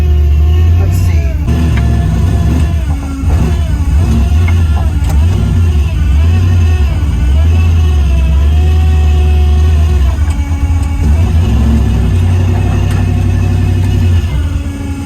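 Engine of a Duster car heard from inside while driving, a steady loud low drone with rising and falling revs throughout, and voices talking over it.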